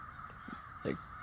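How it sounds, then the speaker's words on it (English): A crow gives a short caw, close by, against a steady background hum, with a faint earlier call beforehand. "And they honk occasionally. Mostly they're just doing what crows do."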